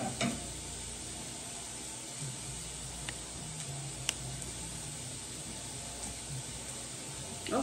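Turkey burgers brown in a pan with a steady, soft sizzle and hiss that holds throughout, broken only by a few faint clicks and taps.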